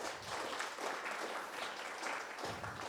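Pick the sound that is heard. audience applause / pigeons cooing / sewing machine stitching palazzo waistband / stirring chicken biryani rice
audience applause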